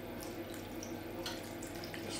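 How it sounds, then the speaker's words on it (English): Stock poured into a pan of corned beef and potato stew, a steady close liquid splashing and trickling throughout with no talk. "just pour on the stock."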